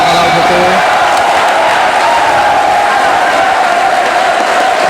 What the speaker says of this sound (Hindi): तालियां हौसला बढ़ा रही हैं केवी नौगांव का और केवी मीसा के प्लेयर्स का भी